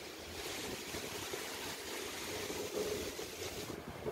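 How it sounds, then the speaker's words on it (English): Water rushes into a canal lock on the Trent-Severn Waterway as the levels equalize, a steady broadband wash and gurgle heard up close from a canoe, with some wind buffeting the microphone and no talking. "You can see some water flowing in as the water levels equalize."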